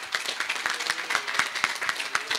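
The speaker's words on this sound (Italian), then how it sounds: "un applauso" An outdoor crowd in a town square in Pejo applauds during a presentation of a women's football team, giving dense, continuous clapping at moderate distance with no voices over it.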